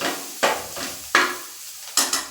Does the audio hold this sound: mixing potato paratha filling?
yes